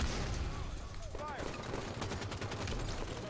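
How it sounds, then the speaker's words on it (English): Gunshots in a Halo 5 Warzone Assault match, with rapid overlapping bursts of fire and whizzing sci-fi effects mixed into a busy battle din, at moderate loudness. "Okay, I shot that guy multiple times."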